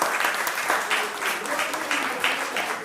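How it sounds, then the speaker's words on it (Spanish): A steady round of applause from an audience at a Día del Locutor gathering for radio announcers in Villa Angela, a dense, even patter of many hands lasting about three seconds with no talk. "Vamos a brindar un aplauso"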